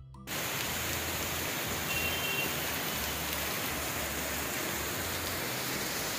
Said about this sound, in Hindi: आज भी बहुत बारिश है